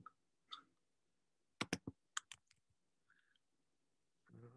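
Keys clack on a computer keyboard as a password is typed, a faint, irregular run of quick clicks with short pauses between them, alone in a quiet room.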